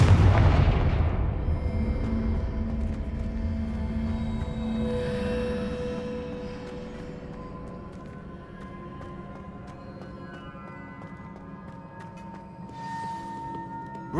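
Blasting spell explosion from the Confringo charm in Hogwarts Legacy: a loud booming burst at the start that decays into a long resonant rumble with lingering magical tones, no talk.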